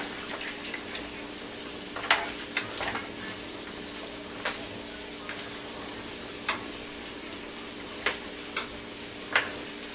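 Tomatoes, sweet peppers, onion and scallion for curry goat get stirred together in a pot, giving soft scraping and a few sharp spoon clicks against the pot over a low steady background, with no talking.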